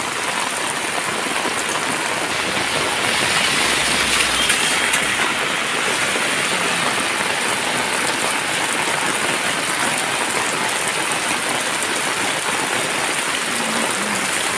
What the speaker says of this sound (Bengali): কত বৃষ্টির মধ্যে বেরোতে পারছে না।